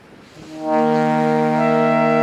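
A sustained tone builds into a flat-nine interval tuned to the 17th harmonic; its harmonics fill out and swell, then hold steady and loud without fading.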